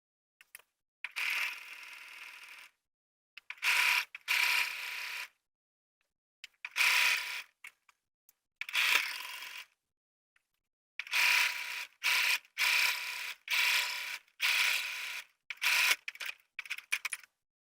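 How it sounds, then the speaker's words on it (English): A sewing machine edge stitching a folded pant hem, running in short whirring, clattering bursts separated by silent pauses, about a dozen runs of varying length, close and clear, with no talking. "edge stitch on this folded edge so that the edge of this lower pant stays nice and neat."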